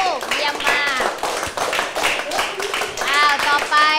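Young children clap together in a primary-school science class, a burst of quick, close hand claps with children's and a teacher's voices mixed in.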